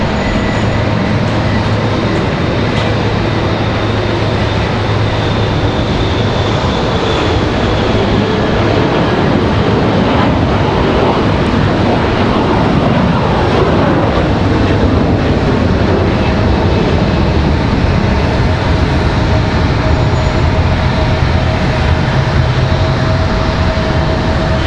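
Air Canada airliner departing Raleigh-Durham International Airport, a loud continuous broadband roar of jet engines at takeoff that stays steady throughout, with a low tonal hum underneath and no talking.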